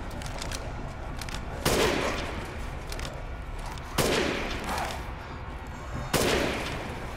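Gunfire in the video game Resident Evil Village: three loud, sharp shots spaced about two seconds apart, each followed by a ringing decay over a steady background of game ambience.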